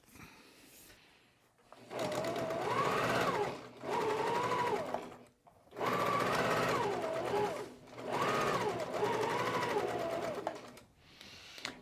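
A sewing machine stitches a double-folded quilt sleeve in bursts, its motor whirring up and winding down across four runs separated by short pauses, close and clear with no talking over it.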